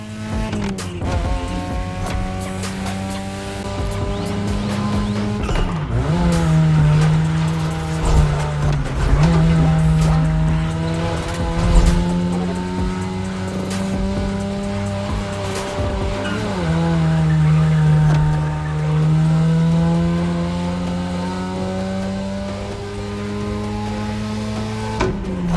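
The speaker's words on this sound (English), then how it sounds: "Come on, show me some real toge driving." Cars racing flat out on a touge mountain road in The Crew Motorfest, engines revving loudly and continuously through rising and falling gear changes, with repeated tire squeals and skids throughout and no talking.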